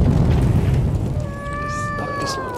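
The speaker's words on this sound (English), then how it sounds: "I hear the catty cat." A cat meows in the war video game 11-11: Memories Retold, a rising, wavering cry heard over low rumbling booms and rain-like game ambience.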